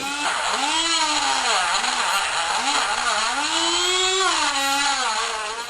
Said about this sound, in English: now I've got my little drum sander on my Dremel